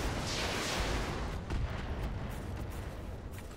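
Mech weapons firing all at once in the video game RogueTech, a dense continuous roar of overlapping blasts and booms that stays loud and sustained throughout, with no speech.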